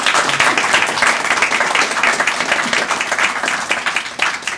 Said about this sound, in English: And to underscore, you can applaud.